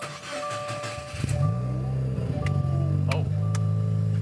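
Loud car engine cold start: the starter cranks briefly, then the engine catches and settles into a strong, steady droning idle with a slight dip partway through, close and dominant, with a few faint ticks over it.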